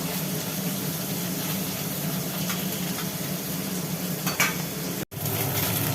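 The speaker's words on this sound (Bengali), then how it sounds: "দুটো দুটো করে ভাজা হোক" Tengra catfish fry two at a time in a pan, giving a continuous close hiss of hot oil with occasional stirring clinks, then a very brief dropout near the end.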